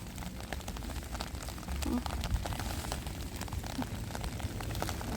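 Steady rain hisses and patters close by, with someone talking over the downpour.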